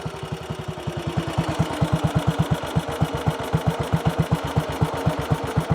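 British single-cylinder motorcycle engine idling in neutral while running a bit rich, a steady close thumping beat of evenly spaced firing pulses, loud and alone throughout.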